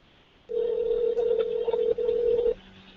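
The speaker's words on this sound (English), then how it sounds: "No one's answering the phone." A telephone sounds one long, loud, steady tone for about two seconds, then stops, with no one picking up and no talk.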